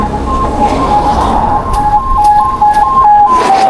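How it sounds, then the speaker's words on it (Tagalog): An ambulance siren wails with a repeating two-tone pattern, fairly close and loud, over rumbling traffic and rain-like noise during Typhoon Uwan near SM Santo Tomas. "Yun lang, may ambulansya pa."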